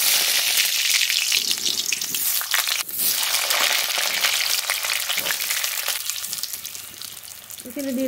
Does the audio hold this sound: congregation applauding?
no